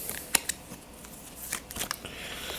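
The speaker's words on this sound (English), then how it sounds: "time to shuffle all the cards" Playing cards are shuffled for a board game, a few sharp riffling snaps and soft scattered rustles, close and fairly quiet, with no voices.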